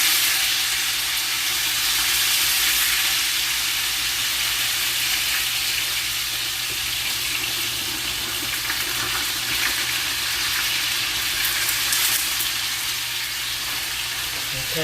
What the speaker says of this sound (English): So I'm going to put my potatoes in.